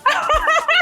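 A dog in a Nigerian movie scene lets out a short run of yipping, whimpering barks, three or four quick bursts close by, with no talking.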